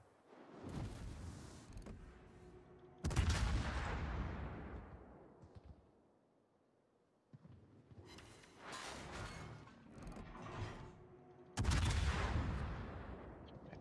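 Heavy shells from the battleship Kurfürst crash in during a naval battle game: several booming explosive impacts in clusters, each decaying into a long rumbling tail, with gaps of near silence between volleys.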